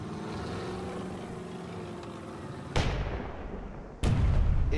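Two heavy booming shots from an anti-tank gun in the Burden of Command war game, each a sharp loud blast with a rolling tail, over a steady background rumble.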